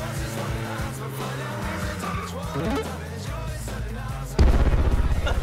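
A street-racing video game car oversteering, engine revving with shifting pitch under tire skid noise, ending in a sudden louder burst of engine roar, no voices.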